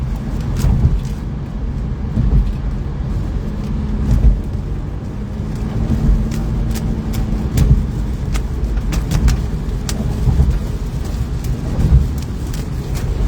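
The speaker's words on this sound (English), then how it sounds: "Might be hitting some more hail." Hail hitting a car driving over a bridge during a severe thunderstorm, loud irregular sharp impacts clattering on the body over a heavy continuous roar of rain and road noise.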